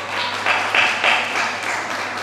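A church congregation at an HKBP service applauds in a short, moderate burst of scattered clapping with a few stronger swells, heard from a distance under a steady low hum.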